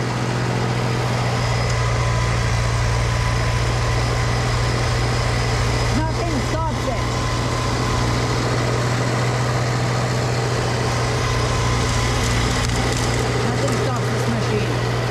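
A mid-sized snowblower engine runs loud and steady during a heavy snowstorm, a constant close drone with brief scraping and crunching bursts partway through.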